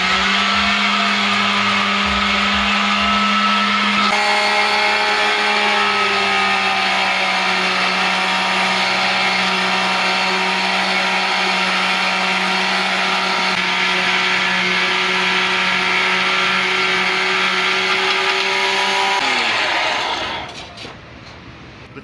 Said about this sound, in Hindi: तो ग्राइंडिंग के लिए तमाम मसाला हमने इसमें डाल दिया है।